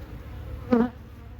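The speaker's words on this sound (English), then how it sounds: "These bees are going to be a little pissy because we just had a storm." Honey bees buzz around an open hive just after a storm, with a close, brief buzzing swell over a low steady hum.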